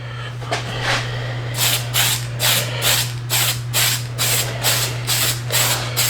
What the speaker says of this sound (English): So I'm going to do just a light coat of orange.